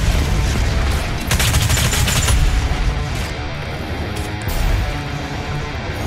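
Rapid, loud gunfire from a shotgun in the fast first-person shooter Doom Eternal, played on Ultra-Violence difficulty, comes in repeated blasts with explosive booms and chaotic combat noise, and nobody speaks.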